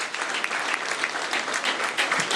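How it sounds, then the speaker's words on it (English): Applause from a Los Angeles mosque congregation at a religious address, a dense, steady wash of many hands clapping at close range, sustained throughout with no talk over it. "All the Los Angeles family, let's give yourselves a round of applause"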